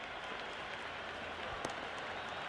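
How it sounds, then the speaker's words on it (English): A stadium crowd in the cricket video game Cricket 26 roars and applauds in a dense, steady wash of noise that holds at an even level throughout, with one brief sharper accent partway through. "It's evident and ever so audible that the crowd is at near bursting point at today's play."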